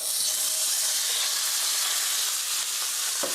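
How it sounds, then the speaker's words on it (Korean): Sliced meat dropped into hot oil in a frying pan sizzles with a steady, dense hiss that holds evenly throughout, close and fairly loud, with no talking. "기름이 잘 데워졌으면 썰어 놓은 고기 넣어주세요."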